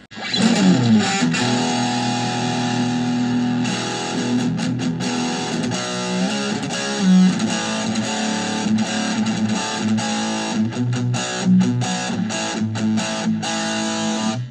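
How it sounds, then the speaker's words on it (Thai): Heavily distorted electric guitar through a Fender Frontman 15W practice amp plays loud, continuous chords and riffs with a gritty, saturated tone, no voices present. "อ่ะมาลองเสียงแตกกันเลย"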